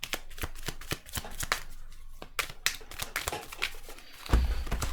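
Tarot cards being shuffled by hand, with rapid repeated riffles and flicks in quick bursts, close and crisp, ending in a louder handling thump.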